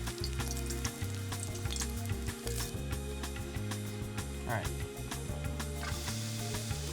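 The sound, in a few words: shallots frying in rendered pancetta bacon fat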